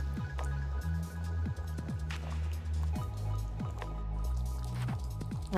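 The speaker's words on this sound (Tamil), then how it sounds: "இப்போ இந்த சாதத்தை புளி தண்ணி மிக்சரோடு சேர்த்து நல்லா மிக்ஸ் பண்ணி விட்டுடலாம்." Cooked rice being stirred into a tamarind water mixture with a ladle while making bisibelabath, giving repeated wet squishing and dripping sounds in a steady stirring rhythm, close and fairly quiet.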